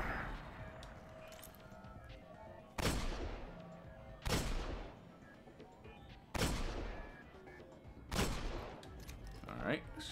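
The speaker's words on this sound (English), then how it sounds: "Let's switch over to my sniper and actually start doing damage on him" Four loud, sharp sniper rifle shots from Destiny, spaced a couple of seconds apart, each with a ringing decay, over constant game ambience and a talking voice.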